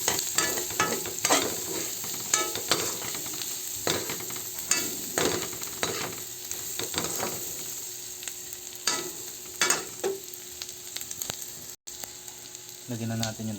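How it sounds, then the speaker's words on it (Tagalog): Ingredients for dinuguan being sautéed in a pan, with a steady sizzle broken by frequent clattering stirs and scrapes of a utensil, close and fairly loud, with no talking. "Gisado na siya."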